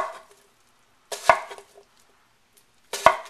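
A knife chops an onion on a cutting board in a home kitchen, giving a few sharp separate thuds spaced about two seconds apart, close and clear with quiet between strokes.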